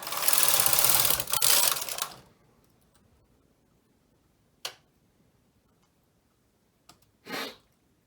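Needles on a double-bed knitting machine being pushed, with a sustained mechanical whir at first, then a few isolated sharp clicks and a short scrape, close and quiet.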